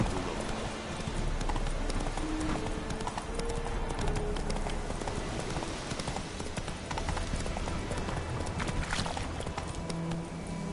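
In The Witcher 3, the horse Roach gallops with fast, steady hoofbeats that sound rhythmic and close, over ambient game sound with an occasional soft creak, and nobody speaks.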